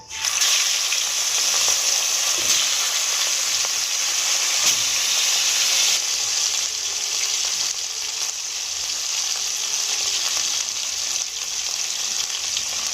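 Rohu fish pieces frying in a pan of oil, giving a loud, steady, dense sizzle that continues without a break, close up and with no talking.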